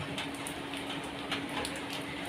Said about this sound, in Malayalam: അവരുടെ തകരത്തിൽ വീഴുന്നുള്ളതുകൊണ്ട് ആ സൗണ്ട് കേൾക്കുന്നത് ചെറിയൊരു മഴയാണ് കേട്ടോ